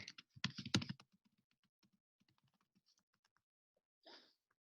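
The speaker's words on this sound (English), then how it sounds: "I'm going to type the other one" Keys on a computer keyboard clatter in a quick, loud burst at first, then settle into sparse, faint, scattered taps with a short rustle near the end, in an otherwise quiet room.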